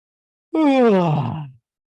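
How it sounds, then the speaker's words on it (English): A single drawn-out human yawn during a group relaxation exercise, rising into a voiced groan and then sliding down in pitch as it fades over about a second, heard alone in a quiet room. "And turn your head to the other side and yawn."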